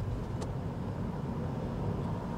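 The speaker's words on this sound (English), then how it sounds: "that little engine out there does a good old job of hauling it around" A Mini Cooper Convertible with its small engine on the move: a steady low rumble of engine and road noise that fills the cabin, constant and fairly loud, with no talking.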